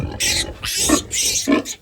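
A sow grunts to her newborn piglets in a barn, giving repeated low grunting bursts close up and fairly loud, with a voice talking around them.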